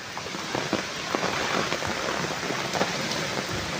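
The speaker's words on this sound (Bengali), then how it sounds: "দেখো আমাদের গ্রামে কেমন বৃষ্টি হচ্ছে।" Heavy rain pours down on a village in a dense, steady hiss, with scattered louder drops and splashes striking nearby surfaces throughout.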